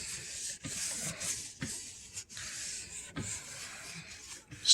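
Steady rubbing and scrubbing across an oak cabinet face while cleaning it with isopropyl alcohol, a soft continuous scratchy sound broken by brief pauses between strokes, with no one speaking.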